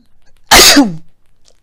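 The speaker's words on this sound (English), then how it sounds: "Oh, I'm about to sneeze, y'all." A single sharp sneeze, loud and close, bursting out after near silence and trailing off quickly.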